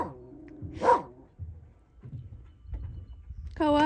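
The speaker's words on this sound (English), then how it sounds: "Koa, quit barking" A dog barks outdoors on a boat during humpback whale watching in Alaska: a few short, sharp barks and yips spaced irregularly, fairly close, with a whimper-like tone and low background noise.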